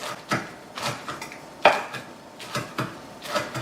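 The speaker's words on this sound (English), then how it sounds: "These peppers, I'm just going to give this a rough chop." Cayenne peppers roughly chopped with a knife on a cutting board, about eight separate knocks at an uneven, unhurried pace, close and clear, with one sharper impact in the middle.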